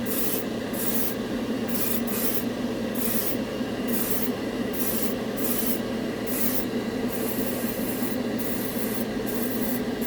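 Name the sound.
airbrush spraying Turbo Dork paint over chrome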